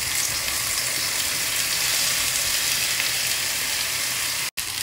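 Potatoes dropped into heated olive oil in a pan fry with a steady, loud, close hiss of sizzling that holds evenly and cuts out briefly near the end.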